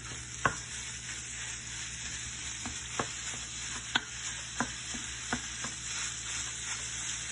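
Ground beef and Italian sausage browning in a skillet, a steady soft sizzle with a spatula scraping and tapping the pan every second or so, close and quiet.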